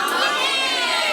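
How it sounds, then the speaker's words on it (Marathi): A festive crowd of adults and children at a baby shower game bursts into loud cheering and shouting for a team, a brief, dense roar of voices up close. "जोरदार टाळ्या"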